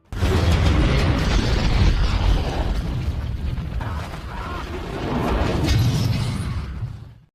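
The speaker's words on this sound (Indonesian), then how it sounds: "Om Mike menembaknya dengan senjata pelontar granat" A loud, sustained blast from a grenade launcher in an action film, holding a heavy rumbling roar for about seven seconds with a second swell near the end before cutting off.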